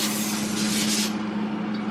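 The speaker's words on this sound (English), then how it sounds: "I'm gonna spray this with some non-stick spray so they don't stick." Non-stick cooking spray hisses steadily from an aerosol can onto a cooking sheet, a close, continuous spray lasting about two seconds with no talking.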